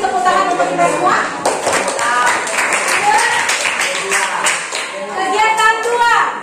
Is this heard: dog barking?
no